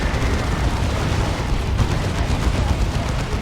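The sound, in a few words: Fire Prism tanks firing at a Crusader, Dawn of War 2 video game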